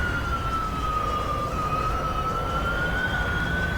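Formula E electric race car in the rFactor 2 racing game, its motor giving a steady, high-pitched whine that climbs slightly in pitch over a few seconds with no talking.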